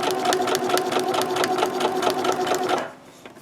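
A sewing machine runs fast and steady, stitching a fabric scrunchie for about three seconds before stopping abruptly, close and loud, with no talk over it.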